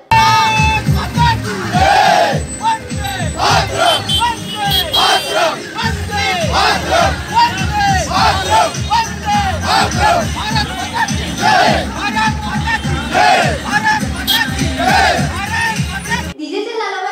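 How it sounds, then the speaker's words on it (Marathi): A large crowd chants patriotic slogans in rhythmic unison, loud repeated call-and-response bursts with cheering and yelling between them, going on steadily before cutting off at the end. "देशभक्तीपर जयघोष करत"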